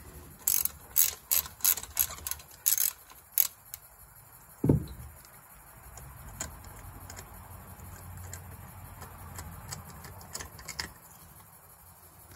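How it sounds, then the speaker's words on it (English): A ratchet fitted with a 5/8 spark plug socket loosens the spark plug on a Sea-Doo GTX 4-TEC, a series of sharp, close clicking bursts, then a thud and quieter handling noises. "use a 5/8 spark plug socket"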